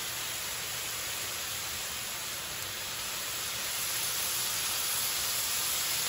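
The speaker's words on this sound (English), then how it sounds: "that steam that's happening right now is cooking my broccoli and some sesame oil" A steady, loud hiss of steam rises from a vegetable stir fry as broccoli cooks with sesame oil in a hot pan. The hiss is continuous and close, growing slightly louder toward the end, with no talking.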